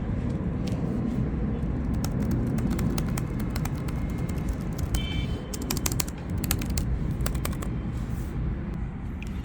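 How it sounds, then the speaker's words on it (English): Quick, light key taps on a Lenovo IdeaPad 3 laptop keyboard click in irregular bursts over a constant low hum, close by. "Let's check the sound of the keyboard."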